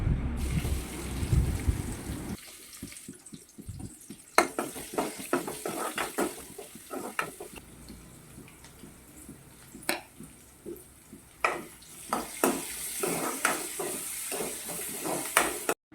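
Onions frying in oil in a pan for buttermilk soup, with scattered stirring clatter and crackles over a low sizzle that swells again toward the end.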